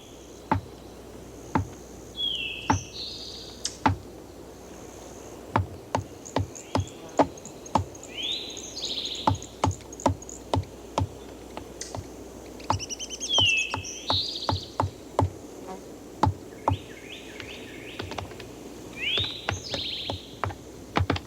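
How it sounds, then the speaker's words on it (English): Woodpeckers in trees, with repeated high chirping calls in short bursts over a steady run of sharp tapping clicks and a faint insect hum in the background. "When a clan of woodpeckers finds trees that suit them exactly, they may remain here for life."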